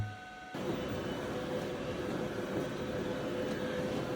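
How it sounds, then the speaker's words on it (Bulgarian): An Epson solvent printer starts up and runs a print job, giving a steady mechanical hum and whir with faint rhythmic clicks, alone without speech. "Така, принтера е Epson ShowColor 80610L."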